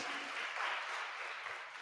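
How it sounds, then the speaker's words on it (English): Audience applause at a community engagement forum, a steady, dense wash of clapping that holds at even loudness for the full length with no voices over it. "Let's give table 2 a round of applause."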